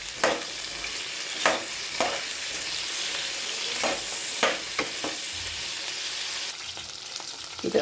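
Garlic and green chillies frying in a pan, a constant close sizzle broken by several scraping stirs of a utensil at uneven intervals, with no talking.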